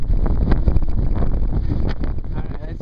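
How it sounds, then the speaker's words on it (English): Strong, cold wind gusting across an outdoor spot on San Juan Island, a loud rumbling buffet pressing against the microphone with uneven bursts throughout. "It's so windy and cold"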